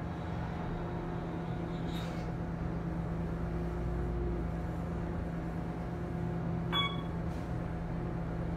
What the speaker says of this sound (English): That fan is annoying.